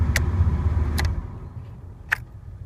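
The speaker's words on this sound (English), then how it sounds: "Now I'm actually going to turn the car off." A 2001 Camaro with an ignition fault is switched off with the key, and a low idle rumble fades out to quiet. Sharp metallic key clicks come once near the start and twice more as the engine dies.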